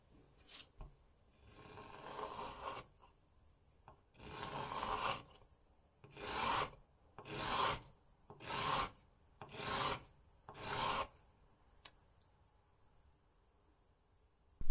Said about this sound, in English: sand a small chamfer on the back and the front